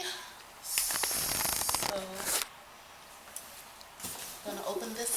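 Scissors cutting open a cardboard shipping box, giving two bursts of close, crisp scraping and tearing with a quieter stretch between them and a brief spoken word.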